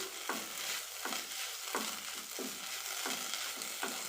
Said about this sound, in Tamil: இந்த கருவேப்பிலையை வந்து நல்லா இதில் வறுத்து எடுத்துக்கலாம் தீயை வந்து மீடியம் ஃப்ளேமில் வச்சுக்கோங்க